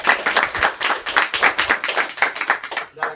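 A small group claps together in a classroom, giving about fifteen quick, fairly even claps close by with no talking.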